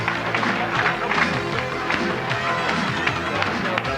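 A crowd at a 1992 motorcycle trial event in Montmartre, Paris, applauds a rider in a dense, continuous wash of clapping and cheering with a voice faintly underneath.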